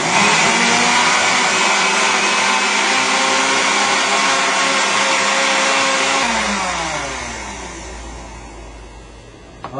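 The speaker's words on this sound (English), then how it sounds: "We're going to let it blend for about a minute or so" A blender purees anti-oxidant smoothie ingredients with a loud, steady whirring roar close by, then the motor winds down and slows near the end. No one speaks.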